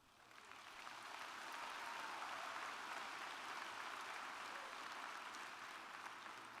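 A large commencement audience bursts into sustained applause, swelling within the first second into a dense, even roar of clapping that holds steady with no voices above it.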